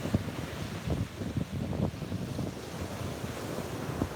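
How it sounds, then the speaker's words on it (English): Ocean surf rolls onto a beach at sunrise in a steady broadband wash of breaking waves, with wind rumbling against the microphone throughout. "the waves are awesome today"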